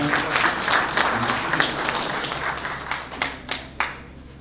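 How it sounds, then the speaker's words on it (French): An audience at an official French ceremony marking 8 May 1945 claps steadily, a sustained wash of hands with a few sharper individual claps standing out near the end, and no one speaking over it. "On peut les applaudir aussi."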